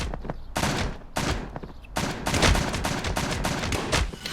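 Rapid bursts of gunfire from the Brawl Stars video game, loud and close, in several clustered volleys separated by brief pauses, with no talking over them.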